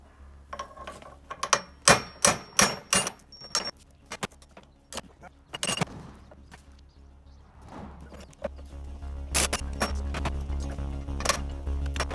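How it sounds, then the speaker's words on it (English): Hardened steel drift struck against a vehicle's bearing cap near the front universal joint: a run of sharp metallic hammer blows in quick succession, then scattered clanks and mechanical rattling, fairly close. "I'm just going to use it to drift the bearing cap a little further along."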